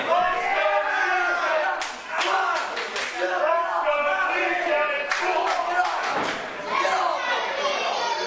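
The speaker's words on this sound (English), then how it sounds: "Crowd starting to get behind TJ." A crowd at a live professional wrestling show roars and cheers steadily, with sharp slaps and chops from the ring cutting through. A commentator talks over the noise.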